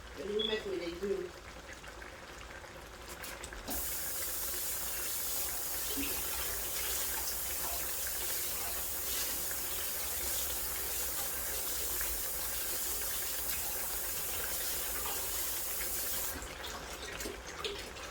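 Water pours into a cooking pot in one long steady rush of close, even splashing that runs for most of the stretch after a brief voice at the start, then stops.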